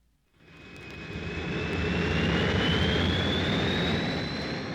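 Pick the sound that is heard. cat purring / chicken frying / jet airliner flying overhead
jet airliner flying overhead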